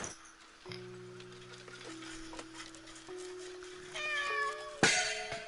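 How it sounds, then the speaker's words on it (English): A cat meows several times in the horror video game Layers of Fear, plaintive tonal cries over a quiet ambient drone and ticking, ending with a louder sharp sound. "That cat is talking to me."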